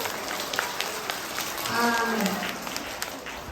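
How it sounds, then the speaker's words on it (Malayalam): Children at a school entrance-day celebration clap louder in a dense, continuous patter, with a voice briefly rising over the applause midway. "കുറച്ചുകൂടി ഒച്ചത്തിൽ ഒരു കൈയടി കൊടുത്താട്ടെ."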